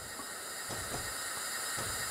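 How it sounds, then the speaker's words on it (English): Train brakes on a steam locomotive in the railway game Train Simulator let out a continuous, fairly loud hiss that stays steady throughout with a faint rumble underneath. "We'll hit the brakes for this one."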